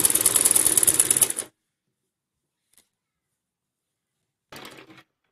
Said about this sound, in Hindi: इसको इसी तरीके से अच्छे से सेट करते हुए इसके ऊपर सिलाई लगा लेंगे।